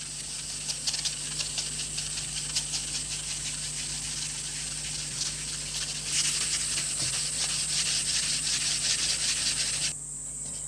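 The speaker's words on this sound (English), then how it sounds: "So I've got a clean Scotch-Brite pad, a grey one, and a sanding block. I'm just going to go over this now and just scuff that surface uniformly." Grey Scotch-Brite pad and sanding block scuffing a clock's surface, steady rhythmic rubbing strokes with a dry abrasive hiss, close and continuous, getting briefly louder partway through before stopping near the end.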